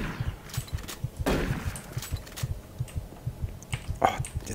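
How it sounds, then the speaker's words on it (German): A steady, thudding heartbeat from the horror shooter game Doom 3 pulses in a regular low double-beat rhythm throughout, with quieter game noises flaring up over it. "Oh, jetzt dieser Herzschlag."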